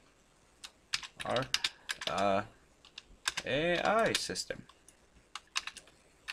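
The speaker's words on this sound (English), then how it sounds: "I'm typing that still." Computer keyboard keys click in scattered quick bursts and single taps, close and fairly crisp, interleaved with a person talking in short phrases.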